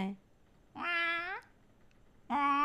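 A human voice imitates a cat's meow twice, each a drawn-out, rising-then-falling cry separated by a short pause, heard clearly and up close.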